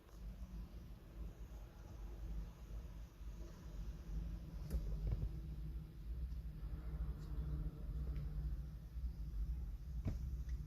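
A car engine starts and idles while a two-channel dashcam is being installed, giving a steady low rumble that runs throughout, with a few faint clicks and knocks on top.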